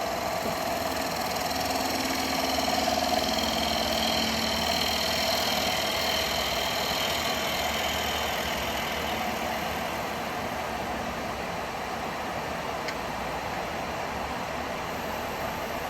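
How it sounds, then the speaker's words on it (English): A small spindle gouge cuts wood on a spinning lathe, producing a steady, even whir and hiss with a faint mechanical hum underneath. It continues without a break at moderate level, with no talking. "So I have to go to a smaller gouge for that. Nice small detail. A small spindle gouge."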